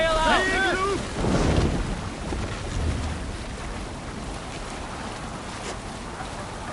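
A Viking longship sailing over ocean waves in Assassin's Creed Valhalla, with a constant rush of wind and water. A short, melodic voice rings out at the very start.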